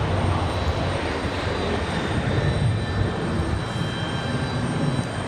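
Boeing 737-900 jet at Raleigh Durham International, a steady broadband engine roar holding fairly loud and constant from start to finish, with no talking.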